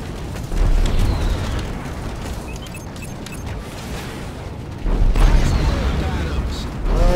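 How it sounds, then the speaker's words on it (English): A fighter spacecraft blows up in the space-combat game Strike Suit Zero: deep, rumbling blasts that swell twice over a steady roar of battle noise. "I blew up the fighter."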